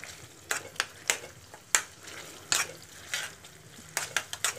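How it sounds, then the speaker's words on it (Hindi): A spoon stirs cream into a water chestnut curry in a pan, making repeated scraping strokes and clinks over a soft steady sizzle, close by with no talk. "अच्छे से मिक्स कर देंगे इसमें मलाई को।"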